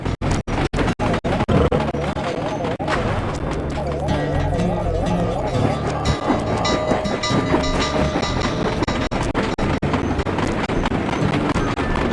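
A train in the video game Sly 2 rumbles and clatters continuously under busy music and a talking voice, with rhythmic clicking and rolling noise throughout.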